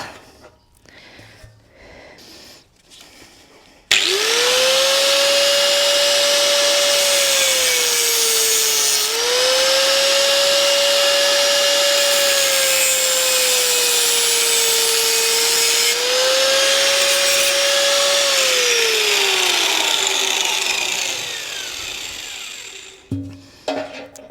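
A power tool cuts through the steel frame of a VL250 bobber motorcycle to fit a Sportster-style fuel tank, a loud steady whining drone starting abruptly and running about sixteen seconds with slight pitch dips before winding down.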